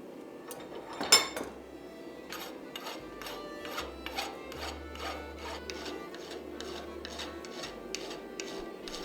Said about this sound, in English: But I want to get them removed. And we're going to do that by hot rasping.